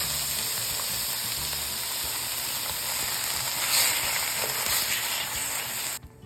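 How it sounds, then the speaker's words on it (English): Crushed tomatoes hitting a pan of sautéed turmeric, ginger and spices for a vegan jackfruit curry, giving a steady close sizzle and hiss that swells midway and then stops abruptly near the end. "Once everything is nicely sauteed, we add our crushed tomatoes."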